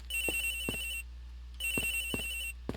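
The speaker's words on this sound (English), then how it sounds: "The ringing's coming from somewhere here" A phone rings in the Ace Attorney Investigations video game in two long electronic bursts with a pause between them, loud and clear, while soft thuds land underneath.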